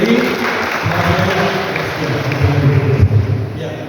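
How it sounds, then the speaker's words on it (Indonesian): Audience applause for a church treasurer at a Bible school graduation and commissioning ceremony in Timika, a steady wash of clapping from a crowd filling the room, with some voices mixed in. "Kita berikan aplaus untuk Ibu Beni"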